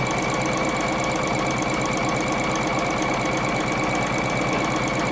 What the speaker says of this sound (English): I serged the raw edge and then I just folded it over a bit.